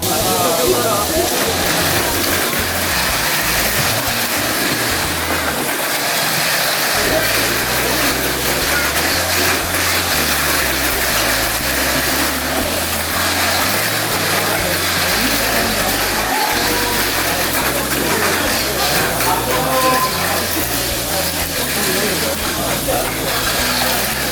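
A green-painted Magnum mini 4WD toy car races laps on a club practice track, with a continuous whirring, buzzing motor noise alongside other running cars and background chatter from people throughout.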